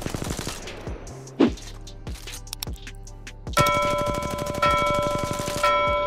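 R99 or R301 gunfire in Apex Legends, with a few separate shots early on giving way to long rapid bursts of automatic fire, plus bright metallic ringing tones layered over the later bursts.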